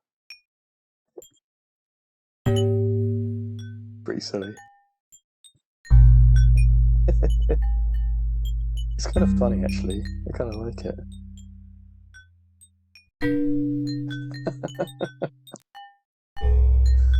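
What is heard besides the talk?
video game sound effect without reverb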